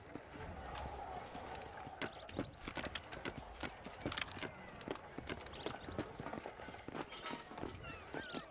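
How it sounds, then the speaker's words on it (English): Horses' hooves clip-clop on a street in the video game Red Dead Redemption, quick irregular hoofbeats throughout with a character's voice talking over them. "Do you see those horses to the left by the building across the street?"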